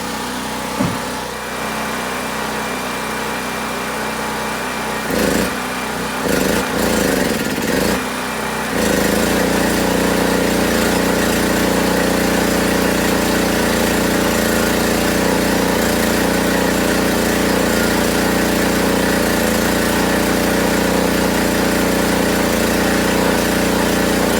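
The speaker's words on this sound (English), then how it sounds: "See what the generator does when I turn it up to 120. I think it might bog down." A Harbor Freight generator running steadily under load from a welder, a close and loud continuous engine drone with brief irregular bursts early on before it settles into an even, heavier hum.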